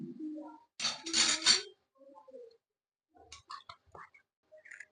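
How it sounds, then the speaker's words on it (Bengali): Fish curry with tamarind being stirred in a cooking pan, heard as a few short bursts of scraping and clinking from a spoon against the pan, followed by lighter scattered taps and clinks. "এবারে আমি ভালো করে নেড়ে দিচ্ছি।"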